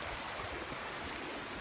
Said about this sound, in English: A beautiful little stream.